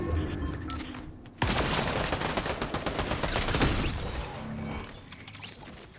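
Sustained automatic gunfire in Fortnite, a loud dense burst of rapid shots starting abruptly and running several seconds before tapering off.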